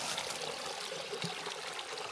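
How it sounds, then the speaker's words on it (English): Water trickles and burbles continuously, like a small stream bubbling over stones, close by with no talking, in a South African bushveld nature reserve. "Listen to the sound of the water here. Bloop, bloop, bloop."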